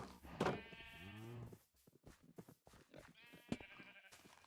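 Sheep bleat in a video game, a loud wavering bleat followed by a lower one, then a quieter third call after a short gap, with soft game sounds between them.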